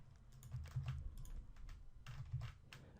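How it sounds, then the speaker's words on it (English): Website address typed on a computer keyboard, with close, quiet key clicks coming in irregular bursts and brief pauses, and no talking. "we're going to type the address of our website there"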